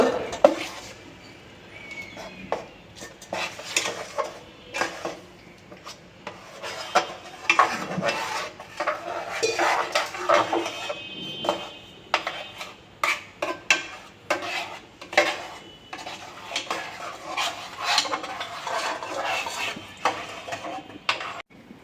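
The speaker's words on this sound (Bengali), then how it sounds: "এখন আমি এটার ভিতরে এটা দিয়ে দিচ্ছি দেখুন এটা কিন্তু একদম দুধের মধ্যে সাদা হয়েছে মা ভালো করে নাড়া দেবো" A spoon works through milk mixed with jackfruit seed paste in a cooking pot for jackfruit seed sandesh, making irregular scrapes, clinks and knocks against the metal that run continuously and fairly close.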